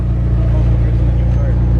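A McLaren and an Audi R8 sports car pull into a car meet, their engines a loud, steady low rumble that holds without break and fills the whole stretch.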